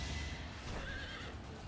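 A horse whinnies briefly amid a video game battle, a faint neigh over soft hoof clatter and low background game noise.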